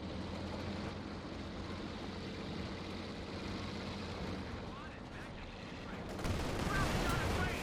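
Panther IV tank shells striking a Pershing in Company of Heroes 2, a steady wash of gunfire and battle noise with a sharper burst of impacts near the end.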